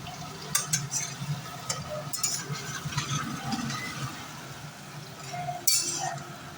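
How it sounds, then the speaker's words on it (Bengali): A metal spatula scrapes and clinks against a wok as onions are stirred, with a soft frying hiss underneath and a few sharper metallic taps, steady and close throughout. "তাই জন্য আবার খুন্তি দিয়ে চালাচ্ছি"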